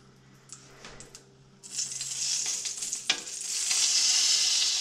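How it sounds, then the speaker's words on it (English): Lemon juice hits a hot frying pan with fish cooking: after quiet light clinks, a sudden loud sizzle bursts up and keeps crackling and hissing close by, swelling stronger near the end, with no talk. "I'll just squirt some lemon juice in the pan."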